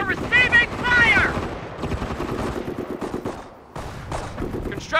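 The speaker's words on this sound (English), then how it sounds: "We're receiving fire!" Bursts of rifle and machine-gun fire in the Company of Heroes D-Day campaign, rattling loudly and repeatedly across the whole span, with shouted soldier voices mixed in near the start.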